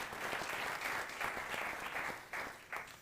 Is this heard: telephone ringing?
no